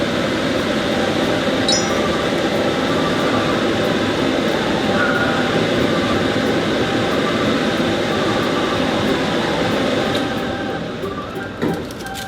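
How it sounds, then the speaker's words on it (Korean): A pet hair dryer drying a dog makes a steady, loud blowing roar that runs continuously without pause at close range, easing slightly near the end. "이 애견 드라이기 되게 편하네"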